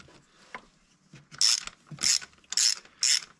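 Ratchet of a socket wrench with a long socket and universal joint loosening a spark plug in the plug well of a Peugeot 1.4 16v engine: four quick clicking ratchet bursts in a steady rhythm, close and clear, after a few soft metallic knocks.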